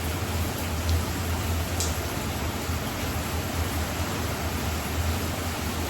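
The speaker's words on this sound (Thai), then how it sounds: "ได้ยินเสียงฝนบ้างคะ" Rain falls steadily outdoors in a dense, even wash of hiss, constant and fairly loud throughout, with no voices.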